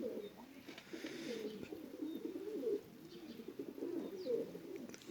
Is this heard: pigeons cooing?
yes